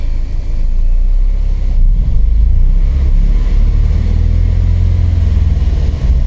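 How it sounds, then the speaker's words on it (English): A 2008 Mazdaspeed3 with a 2.3L engine and manual transmission revs hard at wide open throttle. Its loud, steady low drone runs throughout and dips briefly near the end as it stalls, with no talking. "Doesn't like the rev. Let's wide open throttle and then it died."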